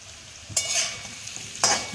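Papaya pieces fry in a pan, a soft sizzle broken by two brief bursts of louder crackling as the pieces are stirred, close and fairly quiet.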